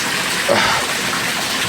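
Flood water gushes indoors during a polar vortex, a loud, steady broadband rush that fills the space without a break.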